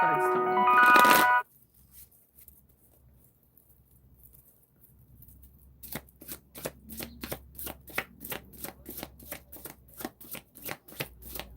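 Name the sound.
tarot cards being shuffled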